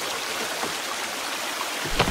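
A steady, broadband rush of falling water from a waterfall in the game The Forest, fairly close and constant, with a brief louder splash near the end.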